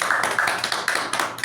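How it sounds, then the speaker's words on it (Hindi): An audience claps in a short, brisk burst, with sharp irregular hand slaps packed close together. The clapping is loud and near, and no voices are heard. "हमारे स्पॉन्सर, हमारे upline star Ruby mister Rajesh सोनार के लिए भी एक जोरदार ताली।"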